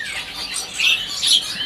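Caged songbirds in a bird shop give high chirps and squeaky trills, close and fairly loud, in brief overlapping bursts with no talking.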